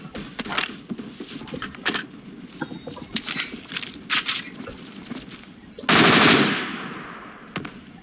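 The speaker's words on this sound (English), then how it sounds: "as you can see there with the automatic fire" Automatic rifle fire in the Phantom Forces video game comes in several short bursts of sharp gunshots, then a longer, louder sustained burst near the end, with faint background sounds between.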